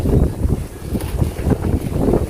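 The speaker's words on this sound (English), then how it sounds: "It's so windy outside." Steady low rumbling wind buffets the microphone outdoors at a garden center, gusting in uneven surges with no talking.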